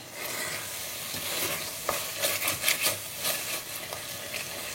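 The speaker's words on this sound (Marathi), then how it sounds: "हो मसाला अनियन्सान बरो भाजया आमी" Masala and onions frying in a pan for Goan pork vindaloo, a constant hissing sizzle with rough scraping strokes from a spatula in the middle, close and loud, with no voices.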